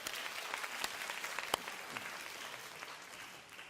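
Youth congregation at a Korean church service applauds at moderate level, a soft wash of clapping with a few sharp individual claps standing out, fading slightly toward the end.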